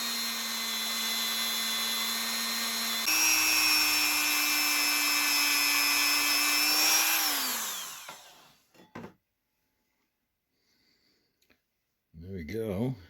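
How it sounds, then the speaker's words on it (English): A Dremel rotary tool fitted with a wire brush polishes handmade jewelry with a steady high whine that steps up in pitch partway through, then spins down to silence. A short burst of speech follows near the end. "I'm gonna use the Dremel tool with a"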